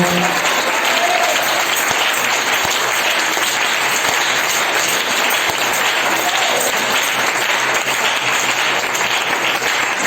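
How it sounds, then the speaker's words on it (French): Loud, sustained applause from a large church congregation, dense clapping with cheering that fills the whole stretch without letting up. "Est-ce qu'on lui donne une acclamation?"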